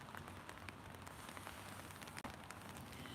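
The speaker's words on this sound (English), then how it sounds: "Here in the rain." Rain falls steadily on a garden, a dense, even patter of drops with soft crackling hits, close and continuous with no one talking.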